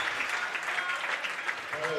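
Crowd in a gym at a high school basketball game offers a modest round of applause, a soft, distant patter beneath a commentator's voice.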